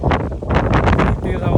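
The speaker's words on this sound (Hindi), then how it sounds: "तेज हवा चल रही है।" Strong gusting wind buffets the microphone on a hillside village street in Busan, South Korea, producing loud, continuous rumbling roars with surging bursts throughout.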